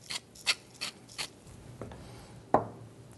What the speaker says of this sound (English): couple of turns of fresh ground black pepper